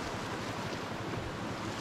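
Ocean surf washes in a continuous, fairly loud rush near a boat anchorage, blending breaking waves with wind buffeting the microphone, and no voices.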